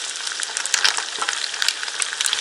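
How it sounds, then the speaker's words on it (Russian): Eggs frying in a pan on an outdoor terrace, a steady close crackling sizzle with scattered sharp pops throughout, no voices. "Он сейчас жарится."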